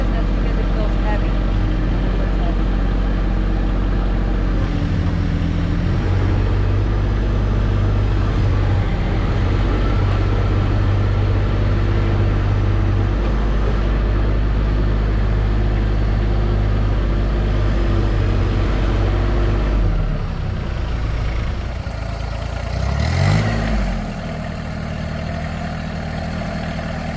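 Tractor engine running steadily while hauling a heavy load of wood, a loud low drone that drops in level near the end with a brief clank and shift in tone.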